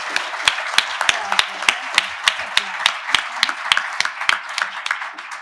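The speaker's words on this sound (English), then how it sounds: "please join me in a big round of applause for this amazing panel" An audience claps for a panel at a policing reform discussion, a steady round of applause with sharp, evenly spread claps filling the room.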